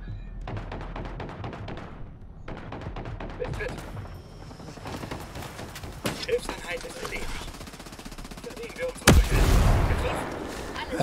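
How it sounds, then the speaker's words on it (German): An explosion booms in the tactical shooter game Ghost Recon Breakpoint. A sudden loud blast near the end rises over ongoing in-game gunfire and combat noise. "Was ist da gerade explodiert?"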